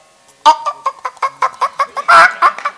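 A person imitates a chicken clucking during a comic Marathi kirtan, a quick run of about a dozen short rhythmic clucks with a louder squawk near the end.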